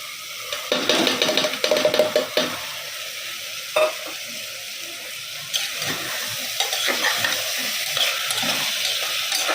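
Soaked dalia is tipped into a frying pan of spice mixture with chilli powder, then stirred and scraped, giving a loud steady sizzle and frying hiss with scraping strokes, alone without talk.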